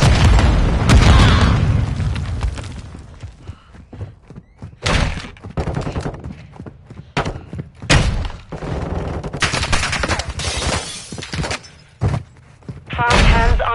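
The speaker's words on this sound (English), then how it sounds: "set the charge on the target and detonate it" A detonated charge in a Search and Destroy video game match sets off a heavy boom, followed by a string of loud thuds and blasts separated by short, quieter gaps.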